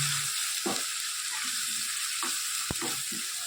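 A spiced gravy with asafoetida, coriander-cumin powder and salt is mixed in a pan, making a soft, steady sizzle broken by a few scraping and clinking spoon strokes near the pan, with no talk.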